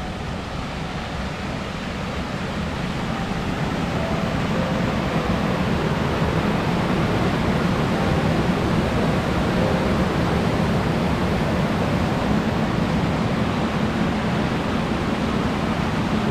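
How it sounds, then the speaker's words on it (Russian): Steady, dense rush of falling water from a waterfall beside a pond in Peterhof's Meadow Park, continuous and fairly loud with no pauses. "И водопад."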